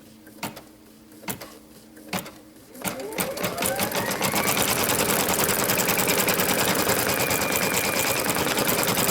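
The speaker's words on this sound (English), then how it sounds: "Now I'm going to stitch out the monogram." An embroidery machine stitches a monogram letter onto cork fabric for an in-the-hoop bag, starting with a few separate thumps, then settling into a loud, fast, continuous mechanical whirring and needle rattle, close up.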